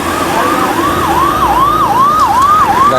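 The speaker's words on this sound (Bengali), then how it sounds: "এই দেখো অ্যাম্বুলেন্স একটা আছে" A loud ambulance siren wails continuously, its pitch sweeping up and down in a steady repeating cycle, close by.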